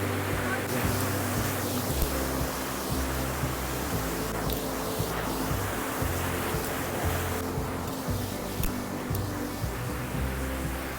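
A monsoon waterfall at Amboli in the Konkan, heard from beside a wooden bridge. It gives a continuous, dense, loud roar that fills the whole stretch without a break.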